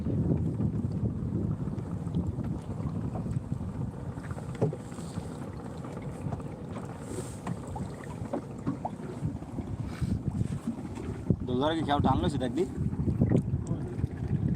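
Boat moving out on open water under a cloudy sky, wind buffeting the microphone in a constant low rush with water and hull noise, someone talking over it throughout.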